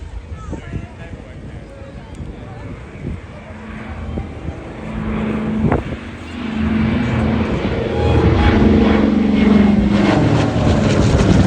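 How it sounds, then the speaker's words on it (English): A Douglas Dakota propeller aircraft of the Battle of Britain Memorial Flight passes over a steam and county show, its engine drone building steadily louder and nearer over outdoor crowd noise. "this year's Battle of Britain memorial flight from the Dakota"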